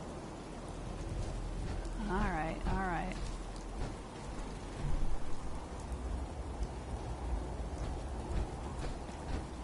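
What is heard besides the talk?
rain falling in the video game Fallout 4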